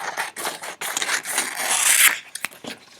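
Scissors cut through paper up close, a run of crisp snipping and rasping strokes in uneven bursts, with short pauses between cuts.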